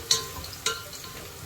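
Cinnamon, cloves, cardamom and bay leaf frying in oil in a pan for Arabian chicken mandhi, a soft steady sizzle broken by a few sharp clicks of stirring.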